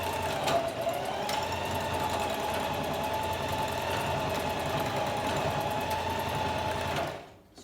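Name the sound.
sewing machine stitching through scrunchie elastic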